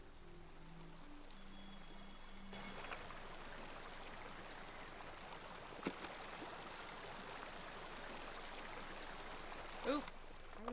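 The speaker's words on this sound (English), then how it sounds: "I wonder if I need to take a sound of this water." A game stream in Season: A Letter to the Future gives a continuous gentle flow of water at low level, with a few soft splashy clicks and faint musical tones early on.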